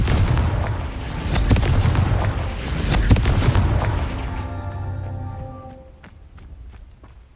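Confringo fire spell explosions in the Hogwarts Legacy video game: a run of loud, booming blasts and crackling impacts over the first four seconds, then fading rumble and scattered softer clatter.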